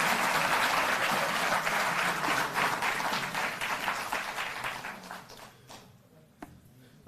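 An audience at an official gathering applauds loudly, a thick wash of clapping that gradually thins out and fades to a few scattered claps at the end.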